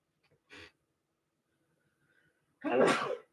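Two sneezes: a small, quick one early on, then a loud, full burst a couple of seconds later, with near silence between.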